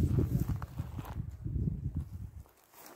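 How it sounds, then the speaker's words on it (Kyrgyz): A horse, shown as number one, walks with steady clip-clopping hooves, close and fairly loud, the rhythm fading slightly toward the end. "Мынакей биринчи номердеги ат чыкты."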